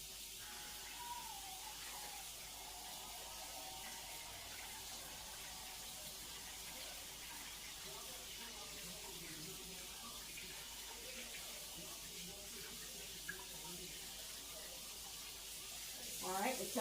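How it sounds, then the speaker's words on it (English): Tap water runs steadily into a kitchen sink while a head of cabbage is washed, a close, constant hiss with faint splashing and handling throughout. "now I'm going to head over to go ahead and wash this cabbage."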